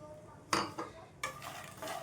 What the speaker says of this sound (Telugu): నెయ్యిని వేసేసుకొని ఇందులో అయితే మక్కానాన్ని ఫ్రై చేసుకోవాలండి.